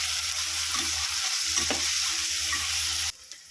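Onions and green peas frying together in a pan for a pulao masala, with steady close sizzling and occasional stirring scrapes, cutting off abruptly near the end.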